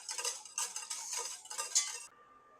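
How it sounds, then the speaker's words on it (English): Soba dipping sauce with sake being stirred in a bowl or pot: a run of light, close clinking and scraping strokes in a quick, uneven rhythm, stopping abruptly near the end. "Give that a mix."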